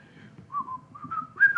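Cheery whistled melody for a Disney-like song, a clear human whistle gliding between several sustained notes over a soft low accompaniment.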